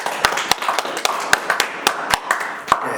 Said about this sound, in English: I think you guys all deserve a proper round of applause